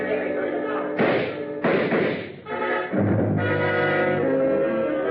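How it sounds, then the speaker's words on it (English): A gunshot sound effect from an old-time radio detective drama, heard as a couple of sharp, heavy thuds mixed in with voices and background music. "I saw the gun flash as it fired, and Theophilus slumped to the pavement."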